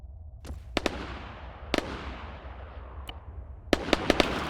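Gunfire from a World War II weapon test in the Arma 3 IFA3WarMod game: sharp single shots and short clusters of cracks over a steady roaring background, ending in a quicker burst of several shots.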